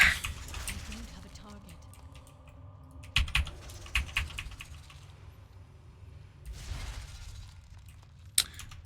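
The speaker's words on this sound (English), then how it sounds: "mouse clicks aren't coming through." Computer mouse and keyboard clicks at a desk during World of Warcraft play, sparse close taps and clusters under a speaking voice, with a faint hum behind.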